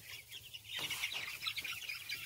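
Three-week-old farm chickens in a flock of about 33 birds cluck and chirp close by, a busy overlapping chatter of short calls throughout.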